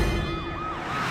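A wailing ambulance siren rises and falls in steady sweeping tones, loud and continuous, with a low rumbling background beneath it throughout.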